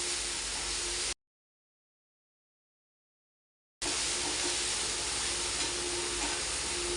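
Ground masala paste fries in a pan toward golden brown for a fish curry, giving a steady, close sizzle broken by a few seconds of complete silence before the sizzling resumes.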